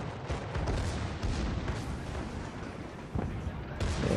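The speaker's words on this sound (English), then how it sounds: "there's some proper main guns firing in there, and all bounces." Tirpitz battleship main guns booming in the World of Warships naval game, with heavy low rumbling blasts and crashing impacts layered over continuous battle noise.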